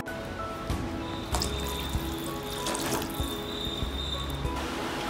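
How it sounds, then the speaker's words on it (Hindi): Continuous rushing pour of two glasses of water into a pot of lightly fried vegetables for soup, steady and close, with faint splashing and a rising gurgle throughout. "2 ग्लास पानी डालूंगी मैं,"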